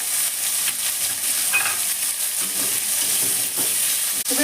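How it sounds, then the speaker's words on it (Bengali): Pumpkin pieces frying in hot oil with garlic and a pinch of salt give a steady, close hiss of sizzling, broken by a few scraping stirs. "এবার আমি কুমড়োটা তেলের মধ্যে ছেড়ে দিলাম অল্প করে নুন দিয়ে দিলাম"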